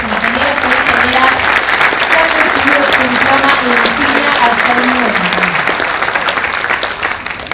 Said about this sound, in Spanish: aprovechamos este momento para renovar el aplauso para todos los ingenieros y ingenieras